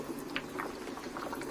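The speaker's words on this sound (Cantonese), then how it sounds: "等佢滾兩滾先" Vegetables simmer in porridge inside an electric rice cooker, giving a faint, soft continuous bubbling with small irregular pops, close by and without talk.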